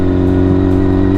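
A 600cc sport motorcycle engine sounds a loud, close, steady buzzing drone with strong even tones, holding a constant pitch for a brief moment with no voices.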